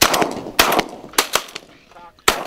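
Several sharp shotgun blasts ring out in the open air during a pigeon hunting contest, arriving in irregular bursts with short echoing tails and a brief quiet gap before a final shot.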